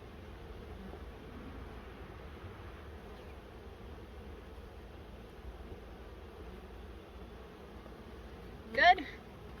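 Honey bees buzz around an open hive, a faint steady hum under breezy outdoor noise, with a brief louder buzz near the end.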